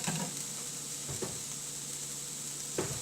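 Tomatoes sprinkled with salt sizzle steadily in a pan, with a few soft scraping stirs standing out against the constant close frying hiss.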